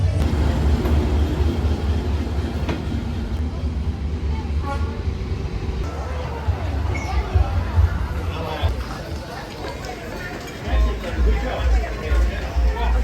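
A train rumbles past up close along a narrow street in Vietnam with a deep, heavy roar and a horn toot, while people nearby talk and exclaim over the noise.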